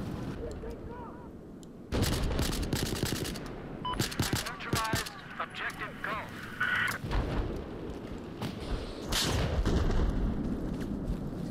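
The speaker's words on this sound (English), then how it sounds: "Sounds like a sniper shooting at me." Battlefield 2042 gunfire crackles through a match in dense, repeated sharp bursts of shots and booms, with a quieter opening before the firing kicks in.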